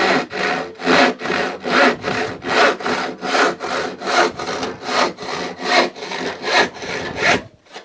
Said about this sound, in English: Let's start with the crosscut saw.